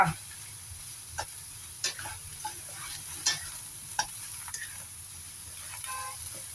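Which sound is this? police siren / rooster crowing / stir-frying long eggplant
stir-frying long eggplant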